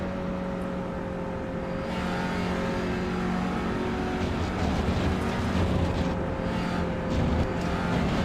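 Touring car engine in the iRacing sim at Mugello, holding a steady loud drone that swells and dips as the throttle goes from full to partial and back, with no voices.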